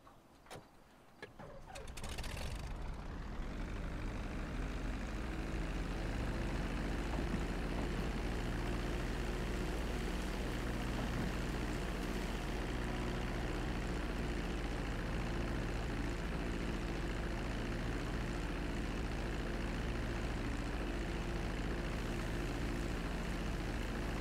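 A steady airplane engine drone in the video game GTA V, rising after a brief start and holding a constant, even hum for over twenty seconds, with no talk.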